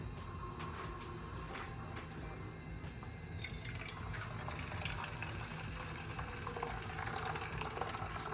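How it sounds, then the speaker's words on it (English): Boiling water poured from a kettle into a pan for a double boiler to melt soy wax flakes, a faint steady bubbling, splashing wash close by with light clinks of the pan. "now it's time to fill up this pan with some boiling water from the kettle"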